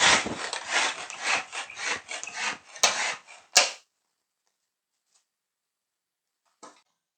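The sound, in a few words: crushing biscuits in a bag with a rolling pin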